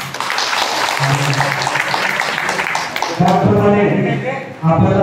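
Applause from a crowd at a water-mission groundbreaking ceremony, a broad clapping wash that gives way to a voice speaking over it.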